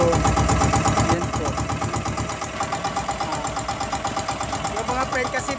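A boat with two engines runs under steady rhythmic chugging, loud and close throughout, with someone talking briefly over it.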